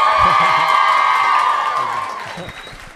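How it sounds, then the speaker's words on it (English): A small studio audience at the Red Bull Sound Space applauds and cheers for Vance Joy, with scattered claps and whoops that trail off toward the end. "One more round of applause."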